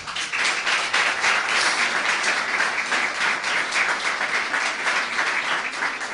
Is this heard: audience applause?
yes